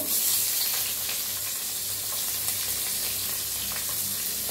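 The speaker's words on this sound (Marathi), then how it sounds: "गरम झाले त्याच्यात टाकूया 1 चमचा जिरं, हिंग" Cumin seeds and asafoetida crackling in hot oil in a pan, a dense, even sizzle with faint spatters, close and constant, no one speaking.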